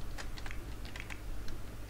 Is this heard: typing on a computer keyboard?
yes